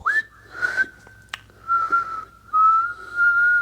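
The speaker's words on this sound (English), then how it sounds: "I suck at whistling too" A person whistles a few sustained tones, the first rising quickly and held, then breaking off and resuming in steady stretches, clear and close with brief gaps between.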